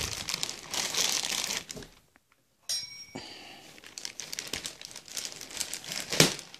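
Plastic wrapping on a Sixpack Fitness 300 Expedition bag, black with red trim, crinkles and rustles loudly and close up as it is opened, dropping to a brief silence partway through before the handling resumes.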